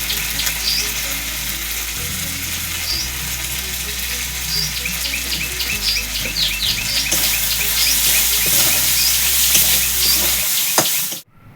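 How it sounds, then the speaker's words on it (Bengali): Ginger frying in a pan with turmeric, chili and a splash of water, a steady close sizzle with occasional stirring scrapes and clinks throughout, no talking, cut off abruptly at the end. "আদাটা দিয়ে একটু ভেজে নেব"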